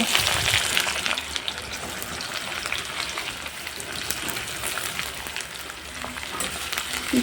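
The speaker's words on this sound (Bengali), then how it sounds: "এবার আমি পেঁয়াজ কুচিটা তেলের মধ্যে দিয়ে দেব" Finely chopped onions go into hot oil with whole garam masala and a dried chili for a mutton curry, giving a steady, close, dense sizzle that holds level throughout with no voices.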